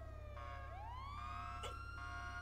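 A police siren wails in a city roleplay video game, its tone rising and holding steady at a moderate distance over a constant low engine drone, with a short burst of noise partway through and no talking.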